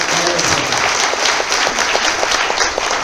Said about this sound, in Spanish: Y el aplauso es para ella,